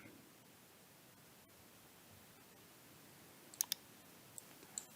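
Several quick, light computer mouse clicks near the end, a close double click and then two softer single clicks, over a faint steady hiss.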